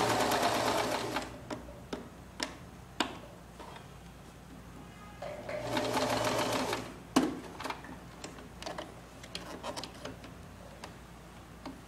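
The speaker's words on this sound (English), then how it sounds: "you're going to want to go ahead and just sew all the way around until you come to the point on the other side that you started sewing" A sewing machine stitches fabric in a rectangle in two quiet bursts of rapid whirring, separated and followed by scattered clicks and taps from handling the machine and cloth.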